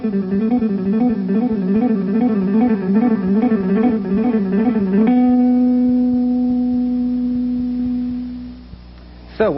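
Electric guitar plays a short picking-exercise riff of quick repeated notes with upstrokes on another string for about five seconds, then holds a sustained, warbling chord that slowly fades, loud and alone with no talking.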